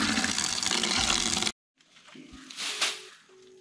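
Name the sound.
water poured into a bucket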